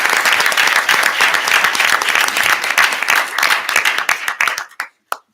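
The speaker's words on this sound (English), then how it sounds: "One more big round of applause for all our top tigers" A crowd at a school board meeting applauds loudly and steadily, then the clapping thins out to a few scattered claps before stopping.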